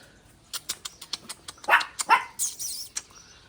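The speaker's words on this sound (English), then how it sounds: "These dogs do some barking" A Malinois barks in a rapid run of sharp, close barks, loud and alone, ending in a few higher yelping cries.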